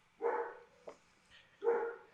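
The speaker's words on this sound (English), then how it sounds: "See, my dog is protesting now" A dog gives two distinct barks about a second and a half apart, fairly close and moderately loud, with a brief faint thump between them and no talking.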